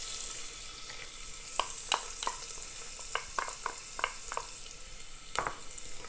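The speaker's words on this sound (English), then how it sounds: "I have already some ghee kind of preheating on medium-high heat" Finely chopped onions fry in hot ghee over high heat, a steady bright sizzle broken by irregular scraping clicks of a spoon stirring the pan, close and fairly loud, with no talking.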